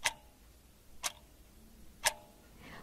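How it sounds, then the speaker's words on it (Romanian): A clock ticking steadily, with three crisp, evenly spaced ticks about a second apart, faint and isolated against a quiet background. "Corect! Ceasul!"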